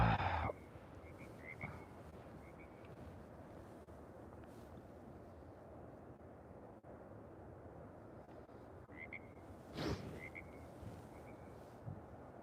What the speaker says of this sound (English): That does sound great, though. The frogs, the waterfall.